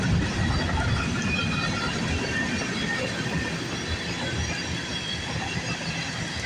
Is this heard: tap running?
no